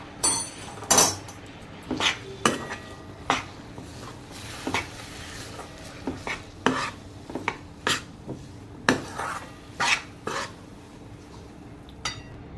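Repeated metallic scraping and clanking of a spoon against a pan, breaking up and melting jaggery lumps in a little water for tilgul ladoo syrup, irregular strokes every second or so, close and alone without any talk.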